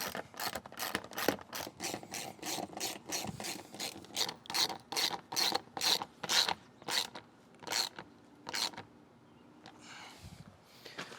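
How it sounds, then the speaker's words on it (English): Ratchet wrench with a 10mm socket driving screws into a retractable hose reel mount: a long run of close, loud rhythmic clicking strokes, quickening then spacing out, stopping near the end. "I'm just going to use a 10mm socket"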